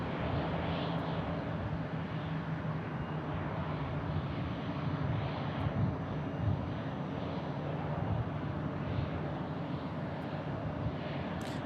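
Aircraft engines at Phoenix Sky Harbor airport, where a small Pilatus turboprop and a Southwest airliner share the field, give a steady, moderately distant roar with no voices.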